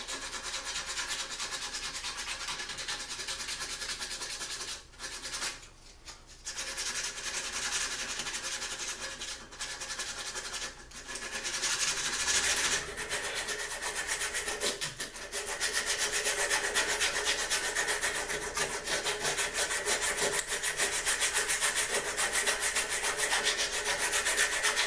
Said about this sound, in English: I went over it with some of the files and 60 grit sandpaper.